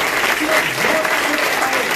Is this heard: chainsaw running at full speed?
no